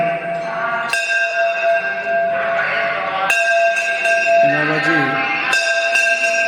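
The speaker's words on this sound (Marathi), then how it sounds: "त्या ठिकाणी प्रत्येक वेळेला घंटा वाजून नामस्मरण त्या ठिकाणी करतात" Temple bells ring repeatedly in a Shiva shrine, bright metallic strikes recurring every couple of seconds with sustained ringing tones, voices murmuring underneath.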